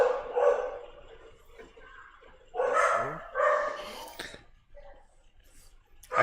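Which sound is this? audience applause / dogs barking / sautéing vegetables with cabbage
dogs barking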